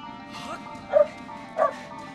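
A dog in The Legend of Zelda: Skyward Sword gives two short barks about two-thirds of a second apart, sounding over game music and effects while people talk.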